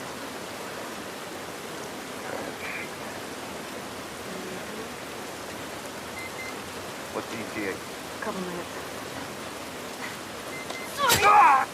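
Steady rain hisses down throughout a scene in The Last of Us Part I, a constant even wash of patter, with brief character dialogue and a sharp louder burst near the end.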